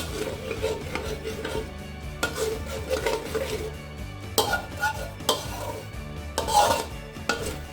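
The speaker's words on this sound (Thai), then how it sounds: "แล้วก็ทีนี้พอมันเริ่มมีน้ำออกมาแล้ว เราก็จะผัดต่อกันเลย" Eggplant curry is stir-fried in a pan, with a spatula scraping and clattering against the metal in uneven strokes over a low sizzle, close and with no talk.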